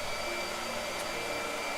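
A blow dryer runs steadily and close up, giving a continuous even airy whir with a faint high whine, with no break across the short stretch and no talking.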